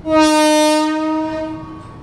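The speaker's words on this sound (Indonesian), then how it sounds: "Ini KRL di jalur 5 baru saja diberangkatkan kembali menuju Kampung Bandan via Pasar Senen" An electric KRL commuter train sounds a loud, steady horn blast for about two seconds as it departs platform 5 at Jatinegara station, Jakarta, close by, tapering off at the end.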